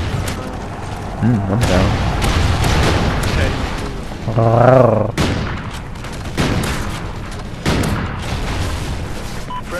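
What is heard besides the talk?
grenade explosion in a first-person shooter video game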